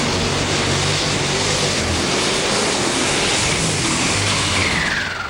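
Case IH STX 500 pulling tractor with a Cummins V8 roars at full power during a super stock pull at Tomah, Wisconsin: a loud, continuous engine blast with wheels spinning, building slightly as the run goes on.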